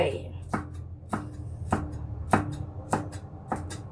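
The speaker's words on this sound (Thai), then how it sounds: "หั่นชิ้นใหญ่ใหญ่หน่อยก็ได้ไม่เป็นไรนะคะ" A knife chops bitter melon on a cutting board into large pieces: six crisp, evenly spaced strikes about half a second apart, close up, with no talking.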